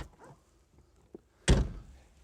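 The door of a 2003 TVR Tamora opens via a button with a quiet click followed by a single solid thunk as it releases, close and distinct against low background noise.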